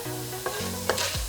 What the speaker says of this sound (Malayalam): കടുക് പൊട്ടിക്കഴിഞ്ഞിട്ട് ഞാൻ ഉഴുന്നുപരിപ്പ് ഇട്ട് കൊടുത്തു.